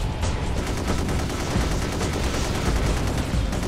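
Gunfire in the Gun Metal video game, a dense, continuous wall of loud rattling shots and blasts with no pauses.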